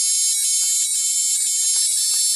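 A loud, continuous high-pitched fire alarm tone blares steadily from two loudspeakers, unbroken for the whole stretch.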